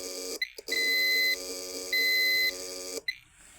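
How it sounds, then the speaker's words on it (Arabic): A low oil pressure warning buzzer on an engine protection device for generators sounds a steady electronic tone twice in long bursts, loud and close, over a constant hum, with short clicks before and after. "يعطي صوت انذار لأن انخفض ضغط الزيت."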